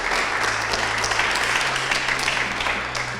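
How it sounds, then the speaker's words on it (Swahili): A school audience at Midway Secondary School breaks into sustained applause, with dense, steady clapping filling the space and easing off slightly near the end. "Piga makofi, ampiga hata makofi Bwana."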